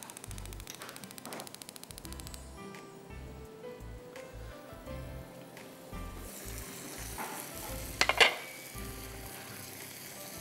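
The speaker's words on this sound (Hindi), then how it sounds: "पहले हम लाल करते हैं चीनी को" Sugar caramelizing in hot oil sizzles softly and steadily in a pan, with faint crackles and a brief scraping stir near the end; no one speaks.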